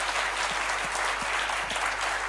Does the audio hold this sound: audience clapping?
yes